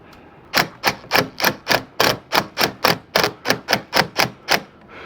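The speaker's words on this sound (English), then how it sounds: "If you've got one of these impact guns, don't go crazy. This thing will snap screws off in a minute." An impact gun drives screws into an RV slide topper, hammering out a rapid, even train of about fifteen sharp, loud rattling blows up close, with no voices.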